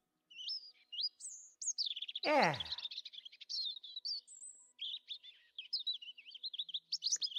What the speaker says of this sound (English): Nice, pretty little chirps.